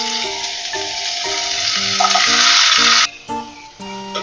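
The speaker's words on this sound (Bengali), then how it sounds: "এবারে আমি উচ্ছেগুলোকে ভেজে নিচ্ছি।" Bitter gourd pieces fry in a wok for a Bengali shukto, giving a loud, steady sizzle that lasts about three seconds, then drops to softer crackling with a few utensil clinks and tonal kitchen sounds.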